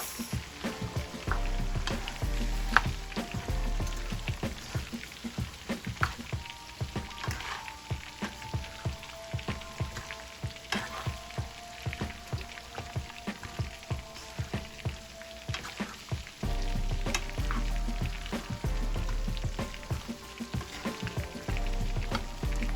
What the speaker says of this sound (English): I added some oyster sauce and then you stir